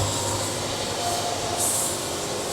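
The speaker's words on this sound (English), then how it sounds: "you can hear it on the sawmill as it hits these things" A sawmill blade cuts lengthwise through a log near the pith, giving a steady loud broadband whine and rumble that runs throughout, with a brief brighter high rise partway in.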